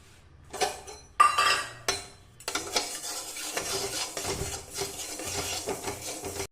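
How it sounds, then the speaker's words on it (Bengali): Moong dal dry roasting in a dry wok: rhythmic scraping and rasping strokes of a spatula pushing dry lentils around the metal pan, close and uneven, with short pauses at the start and no talking. "আমি এখন মুগ ডালটাকে শুকনো কড়াইতে ভালো করে ভেজে নেব"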